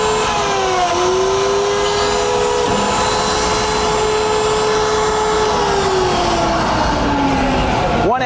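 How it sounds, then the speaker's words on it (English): A Safety Speed Cut SPM101E tabletop screw pocket machine runs its pocket router and pilot hole router together, a loud steady motor whine that shifts pitch under load as the pocket is cut, continuous and close throughout. "You've got one switch that turns on both your pocket router and your pilot hole router."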